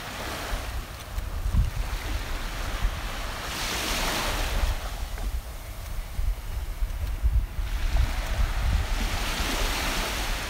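Ocean waves rolling onto a beach on a morning walk, a steady wash of surf that swells and recedes, with wind buffeting the microphone throughout.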